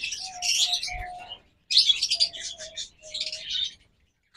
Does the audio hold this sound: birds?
yes